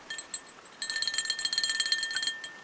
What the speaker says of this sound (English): the good old-fashioned fishing bell